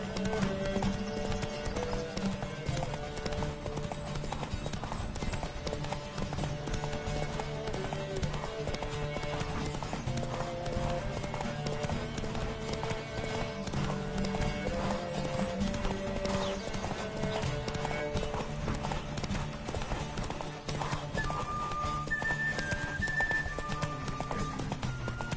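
Rapid, continuous hoofbeats of a galloping horse in a video game, loud and close, with an occasional whinny.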